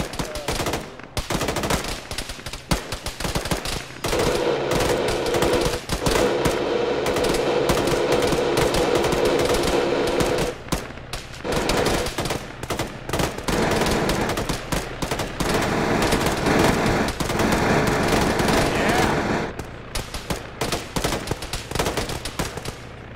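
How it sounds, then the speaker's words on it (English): Minigun in a military shooter game firing long, rapid sustained bursts, loud and close, with brief pauses between the streams of fire and other gunfire mixed in. "It sounded like a minigun."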